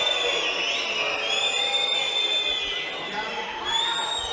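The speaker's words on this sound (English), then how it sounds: "The crowd perhaps a little unfairly booing him" A crowd at a men's team sabre world championship final in Budapest, Korea against Hungary, keeps up a loud, sustained roar of jeers and whistles in the arena, steady throughout with no clear speech.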